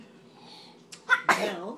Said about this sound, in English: They're nice sounding sneezes.